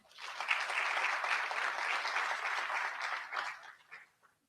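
A crowd claps steadily for about four seconds, a dense even wash of applause that fades out at the end.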